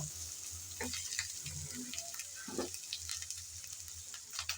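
Ginger and garlic frying in a pan for a pangas fish curry, giving a steady soft sizzle with occasional faint scrapes of stirring and no voices.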